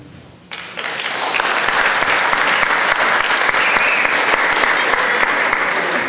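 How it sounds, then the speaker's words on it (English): An audience claps at a federal candidates' meeting, a dense, steady round of applause that starts abruptly and holds at a strong level throughout. "Could I try and limit the clapping until the very end"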